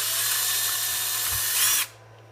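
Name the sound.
drill making a hole in plastic RC driveshaft cover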